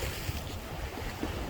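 Waves washing in at the water's edge just beside Blackpool's North Pier, a steady broadband wash with wind buffeting the microphone and no talk.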